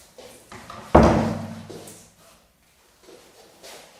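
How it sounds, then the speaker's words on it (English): A home recording studio door swings shut with a single solid thud and latch knock, followed by a short decaying ring and quiet handling sounds. "that's one door closed."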